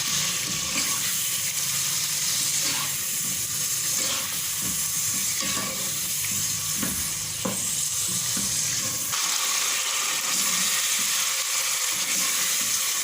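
Chicken pieces in a yogurt marinade fry in hot oil in a home kitchen, giving a continuous sizzle with intermittent stirring clatters and scrapes, fairly close and steady, with no talk.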